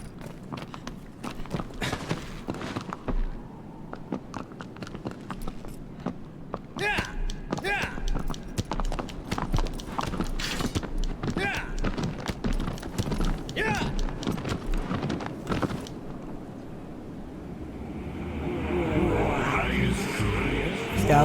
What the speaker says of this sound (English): Call our horse back.